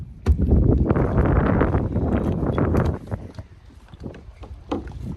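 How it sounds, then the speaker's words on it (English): Wind gusts buffet a small boat on the water, a loud, broadband roar that holds steady for about three seconds before easing into softer, choppier bursts with faint knocks. "It's blowy as in it's windy."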